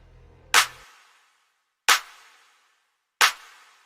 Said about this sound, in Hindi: उसको वहां पर 3 तालियां सुनाई देती है।